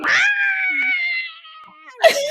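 A human voice imitates a cat's howl, holding one long wavering wail that slowly drops before breaking off, then rising into a short yowl at the end.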